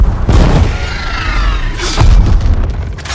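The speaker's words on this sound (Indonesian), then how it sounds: "Para Holoman berusaha merangkak ke atas sehingga memicu sebuah ledakan bom" Bomb blast in an action film as cliff guards crawl upward, a loud booming explosion with rumbling low end and scattered bursts rolling on for a few seconds.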